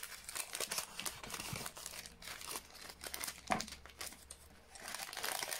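Paper being torn against the edge of a paper guillotine blade instead of cut cleanly, giving dense crinkling and ripping noise in short irregular bursts, close and fairly quiet, with no talking.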